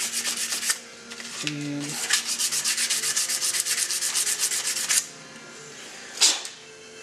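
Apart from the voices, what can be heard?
lightly sanding a part before priming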